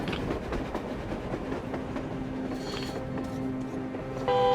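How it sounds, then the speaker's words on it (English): A train runs in the post-apocalyptic shooter Metro Exodus, a continuous loud rail rumble with clickety-clack and a steady metallic tone, ending in a sharp louder burst. "Looks like they're chasing that train too."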